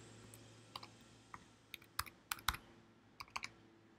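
A password is typed on a computer keyboard: about a dozen quiet, close key clicks in an uneven rhythm, bunched together in the middle and alone in a hushed room.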